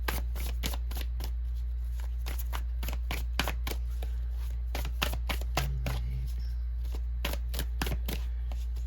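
Tarot cards shuffled by hand, a steady run of crisp riffling snaps and flicks repeating close up throughout, with a low constant hum underneath and no talking.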